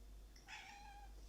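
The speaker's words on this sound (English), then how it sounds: "oh, sorry, that's my cat um Yakitori there" A pet cat indoors lets out a single short meow, faint and distant, over a steady low hum.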